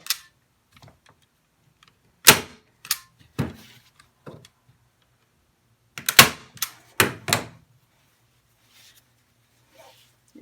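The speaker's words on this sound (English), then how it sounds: "You staple one in and hold the other pretty tight." Staple gun fired into fabric stretched over a wooden canvas frame, a handful of sharp, close snapping clacks spaced irregularly across quiet pauses, with faint handling rustle between shots.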